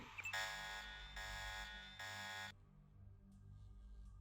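Alarm buzzer in the video game Deus Ex, a harsh electronic tone sounding in three repeated pulses with short gaps, then cutting off into quiet background.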